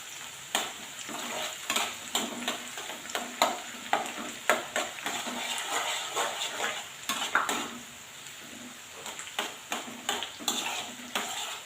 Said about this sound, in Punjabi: ਹਲਕੇ ਜੇ ਬਰਾਊਨ ਕਰ ਲੈਣੇ ਨੇ ਆਪਾਂ ਨੇ ਲਸਣ ਤੇ ਪਿਆਜ਼ ਨੂੰ ਤੇਲ ਬਹੁਤ ਗਰਮ ਆ